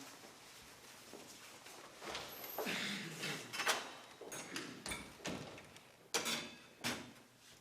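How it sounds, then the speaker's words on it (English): A door shutting during a high school stage play, heard among scattered footsteps, bumps and handling noises with a few louder knocks near the end, fairly quiet room sound. "Please close the door on your way out, Constance."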